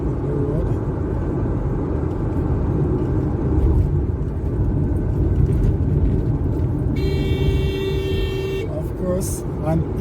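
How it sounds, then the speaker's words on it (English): Traffic on a coastal highway under improvement works, a car overtaking on a corner amid continuous road rumble and passing vehicles, with a brief horn-like tone near the end and a voice talking over it. "an idiot overtaking on a corner"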